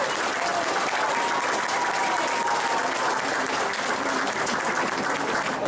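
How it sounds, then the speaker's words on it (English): A crowd applauds at the grand opening of the new Mitcham railway station, steady dense clapping held at an even level throughout, heard fairly distantly with no voices over it. "they deserve a big round of applause for the people who've worked on this project"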